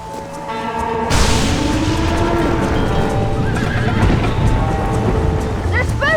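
Spooked horses stampede in Red Dead Redemption, with loud neighs and whinnies over rumbling hoofbeats and thuds in a dense, continuous game mix.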